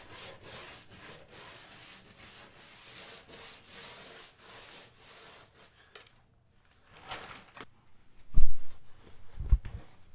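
Old caulk being scraped and brushed off a bathtub edge in a bathroom, with steady rubbing and scraping strokes for about six seconds, then a pause followed by a few louder knocks and scuffs.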